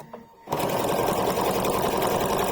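A sewing machine running a programmed satin stitch starts after a short quiet pause and then hums and chatters steadily and close up.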